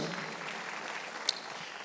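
A church congregation claps together during a Sunday worship service, a soft, steady wash of applause from a distance throughout.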